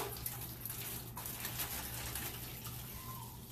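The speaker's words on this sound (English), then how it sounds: "Just pour it in there till it's about half full." Water pours steadily into a container for a few seconds, a continuous splashing wash with a low hum underneath and no talk.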